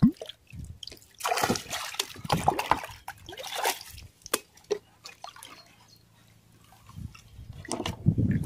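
Liquid is poured and stirred into a tank while setting up an Azolla growing bed, giving uneven bursts of splashing and trickling with quieter pauses between, fairly close.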